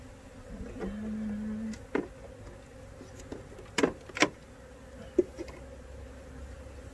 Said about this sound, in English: Still have bees here that I want to brush in.